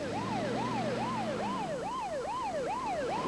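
Wailing ambulance siren sweeping rapidly up and down in a steady repeating cycle, loud and close, with a low engine rumble beneath it.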